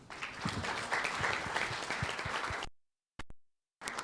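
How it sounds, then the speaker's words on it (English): Audience applause for panelists at a discussion on substandard and falsified medical products, a steady dense clapping that cuts off abruptly, followed by near silence with a few brief clicks and a final short burst. "Please let's give a round of applause to our panelists."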